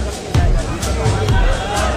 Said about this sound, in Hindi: बाहर बहुत भीड़ हो चुकी है।